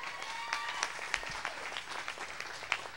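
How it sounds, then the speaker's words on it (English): An open stage audience claps in a dense, moderately loud patter of many hands, with a few sharper individual claps standing out above the steady crowd applause. "Thou shalt clap, damn it."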